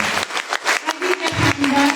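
Audience applause for the parents at a solo concert by contest winners, steady clapping from a crowd filling the hall over two seconds, with a voice rising briefly above it.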